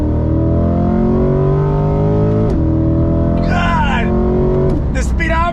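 A Lingenfelter-modified 2021 C8 Corvette engine revs hard under throttle, a loud rising drone with a quick shift break, and a voice briefly exclaims over it near the end.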